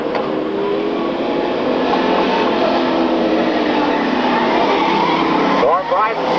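Race cars roar steadily around a track at a 1995 race, a Pontiac among them, the engines loud and continuous with a brief shift near the end, under an announcer's play-by-play.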